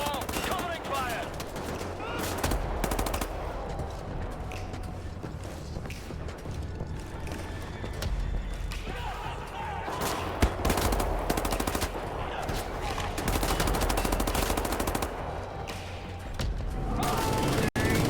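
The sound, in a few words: covering gunfire in the video game Wolfenstein: The New Order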